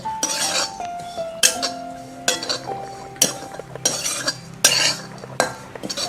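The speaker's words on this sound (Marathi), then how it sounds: "सतत ढवळत राहायचं आहे नाहीतर काही वेळा हे करपतं आपलं खोबरं" A metal spoon stirs grated coconut roasting in a pan over low heat, producing repeated sharp clinks and scrapes against the metal in an uneven rhythm, close and fairly loud.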